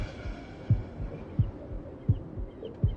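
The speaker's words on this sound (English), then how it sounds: "I can hear my heartbeat." Heartbeat heard as a steady series of low, muffled double thumps, about one pulse every 0.7 seconds, close and soft over a faint hum, with no talk.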